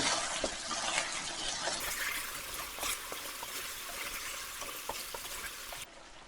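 Pepper chicken with dry masala and curry leaves being stirred in a pan: a steady broadband sizzle with soft scraping strokes and occasional light clicks, close and continuous throughout.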